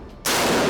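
A single rifle shot through a HUXWRX Flow 556ti suppressor bursts in after a brief quiet moment and stays as a loud, broad, sustained blast until the clip ends, with no talking.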